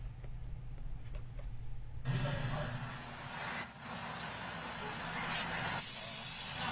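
A fire truck arrives at a street scene and its air brakes release a sudden loud hiss that spreads into a sustained, broad spray of air over the idling engine rumble, fairly close.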